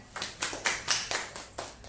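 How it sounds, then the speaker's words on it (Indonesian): A class claps in unison, about eight distinct claps in a steady rhythm, fairly close and moderately loud, with no talking over it. "Tepuk tangan semuanya."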